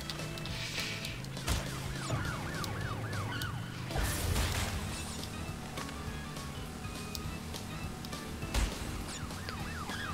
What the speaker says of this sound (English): And now, the police cars move